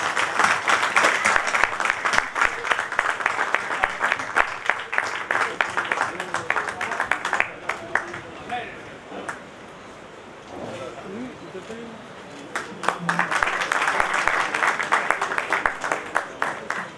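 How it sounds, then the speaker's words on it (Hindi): Loud, sustained applause from an audience welcoming the chief guest at a Delhi Hindustani Mercantile Association function, dense steady clapping that eases mid-way and swells again, with someone speaking over it. "बहुत जोरदार तालियों से इनका स्वागत करें।"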